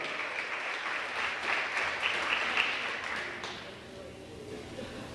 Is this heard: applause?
yes